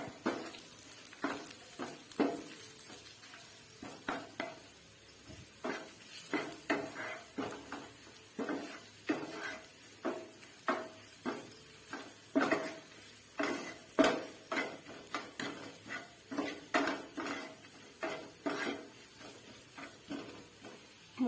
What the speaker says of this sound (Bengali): এবারে আমি ভালো করে মশলাটাকে মিশিয়ে নেব।